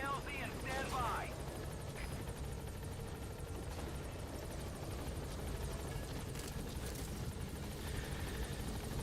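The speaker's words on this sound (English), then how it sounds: "Support helicopter has arrived." Support helicopter arriving in the video game Metal Gear Solid V, a steady broad rotor roar holding at constant loudness throughout, with a brief voice near the start.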